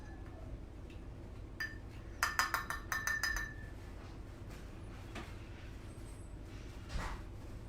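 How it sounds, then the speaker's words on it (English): A paintbrush rinsed in a glass water cup, its handle tapping and clinking against the glass in a quick burst of bright clinks, with quieter taps before and after against a low background hum. "I'm going to rinse that same paintbrush out because it's a good size."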